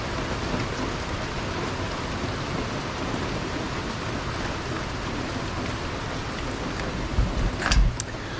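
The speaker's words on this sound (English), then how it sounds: "since it is raining" Steady rain falls outside over a garden, a dense even hiss that runs the whole time, with a brief louder patch near the end.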